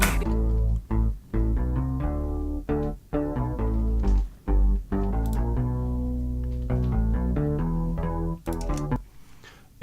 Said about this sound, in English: So this is the sound of the bass.